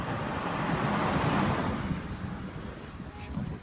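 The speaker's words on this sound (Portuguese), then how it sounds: "Passando um carro aqui." A car passing by on a street, a broad roaring wash of road noise that swells near the start and slowly fades as it moves away, steady and fairly loud with no talk.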